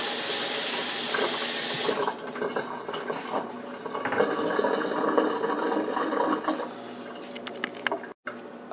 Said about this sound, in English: actually I'm gonna wash my hands first